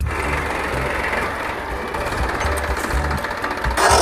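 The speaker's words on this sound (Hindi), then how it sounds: "ट्रैक्टर" A tractor engine runs close by with a steady, rough, rapid chugging and rattle that stays loud throughout, with a brief louder burst near the end.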